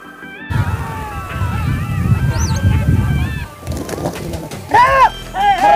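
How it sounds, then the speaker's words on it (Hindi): Pigeons calling indoors in a room on a cold day after rain, short harmonic coos and honk-like notes near and loud, mixed with background rustling and some human voices. "दो कबूतर आए हुए थे दोस्तों"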